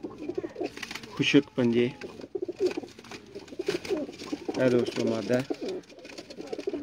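Sialkoti pigeons coo in soft, rolling bursts close by, with someone talking over and between the calls.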